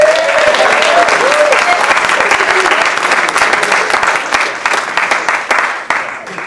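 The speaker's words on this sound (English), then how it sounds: "wonderful round of applause" A crowd at a Martin Luther King tribute event applauds loudly, steady clapping that gradually thins out and fades, with a brief cheer near the start.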